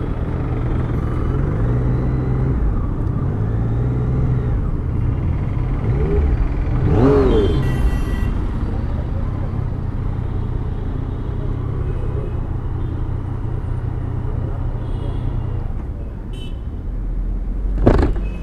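A Yamaha MT-09 motorcycle engine rumbles steadily and revs up in surges during a test ride in India, with a brief louder rise midway and wind noise over the ride.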